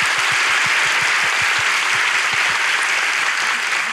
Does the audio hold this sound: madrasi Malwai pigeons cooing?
no